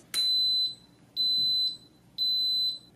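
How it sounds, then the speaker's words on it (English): An Instant Pot Duo Mini pressure cooker beeps three times, high-pitched tones at even intervals about a second apart, clear and close in a quiet room. "The unit beeped"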